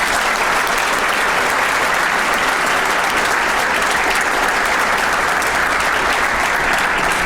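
An audience at a spring ring ceremony gives a sustained round of applause, loud and evenly packed from start to end with no clear voices above it.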